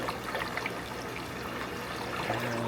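Water from a garden hose flowing steadily through an aquarium, a continuous trickling, splashing stream with no break, fairly quiet and close.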